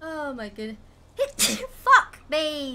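A single loud, sharp sneeze bursts out between bits of talk, followed by a short laugh and more exclamations, with people speaking around it.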